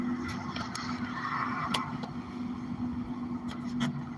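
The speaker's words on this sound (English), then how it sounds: "here comes a truck about 70" A white truck passes at about 70, its engine and tire roar building as a steady broad rumble with a low drone, close by and fairly loud, with faint clicks and taps scattered through.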